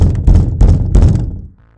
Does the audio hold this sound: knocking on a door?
yes